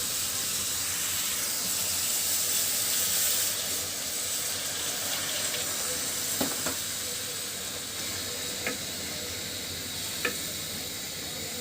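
Broth poured into a pan of frying hilsa fish head, eggplant and boiled potato: a steady, loud sizzle and hiss of steam throughout, with a few faint clinks.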